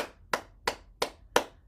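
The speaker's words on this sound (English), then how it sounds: "we'll stimulate our heart by clapping" Five crisp, evenly spaced hand claps on the chest to stimulate the heart, made close up and alone during a gentle bouncing exercise.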